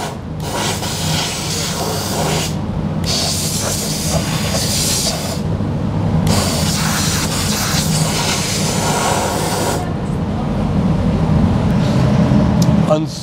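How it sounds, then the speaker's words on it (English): Rust inhibitor undercoating sprayed up around a vehicle's rear shock and under the rear wheel liner during a Mopar rust-proofing job: a loud, steady pressurized hiss that runs nearly the whole time with only short pauses between bursts. "we'll spray up and around the shock, up underneath the liner on the rear end"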